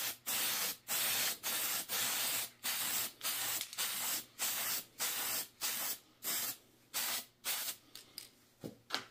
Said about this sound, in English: So let's get that top spray painted.